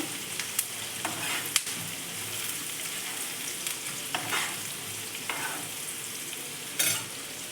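Onions, green chillies and curry leaves frying in a pan for a pumpkin palya make a close, steady sizzle, broken by several sharp scraping stirs and clinks of a spoon against the pan.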